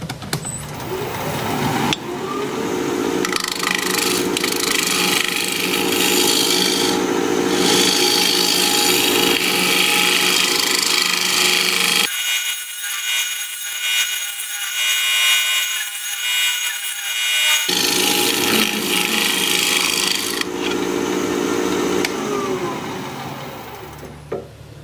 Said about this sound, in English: let me put a fresh burr on my scraper and we'll scrape